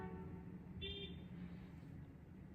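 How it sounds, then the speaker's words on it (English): Car horns honk outside, a brief faint toot rising over a steady low traffic hum heard from a distance. "all the horns outside start honking"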